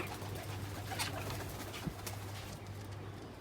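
Pigeons coo softly in a loft with a flying shed while birds move about, a faint low murmur under a steady hum, with light wing flutters and one small thump.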